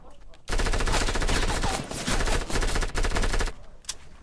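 Rapid automatic gunfire in the video game Fortnite, a dense burst of shots sustained for about three seconds, loud and close, with a brief pause mid-stream and a faint distant shot after it stops.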